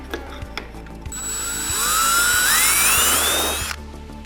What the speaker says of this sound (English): now I need to drill that hole to make it complete